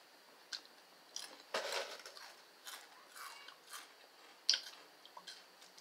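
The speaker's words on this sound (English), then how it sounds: "I'm also eating chips right now. That's why I keep crunching." Close, quiet crunching of chips being eaten, irregular bites and chewing crackles spaced out over several seconds, with one sharper snap near the end.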